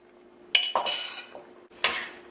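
A metal spoon stirs cooked okra back into a pot of tomato sauce for a Caribbean Divali dish, giving a few sharp clinks and scrapes against the pot, close and clear, with no talking.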